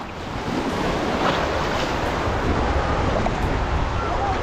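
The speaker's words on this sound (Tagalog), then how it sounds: "Napakalakas po ng alon." Strong ocean waves at Patar beach make a loud, continuous roar of surf, with wind buffeting the microphone throughout.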